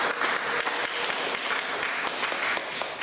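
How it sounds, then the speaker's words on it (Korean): Congregation applauding in a church after a sermon, a dense, even wash of many hands clapping at once, sustained and fairly loud from start to finish. "우리 박수 한번 드릴까요?"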